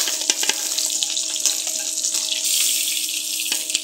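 Tilapia fish sizzling and crackling as it fries in hot oil, a steady close bubbling hiss with scattered sharp pops throughout.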